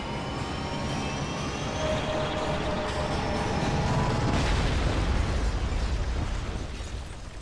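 An airplane roars in flight in Dead Rising 3, a dense, sustained rumble swelling toward the middle with explosive bursts and crackle mixed in before easing off.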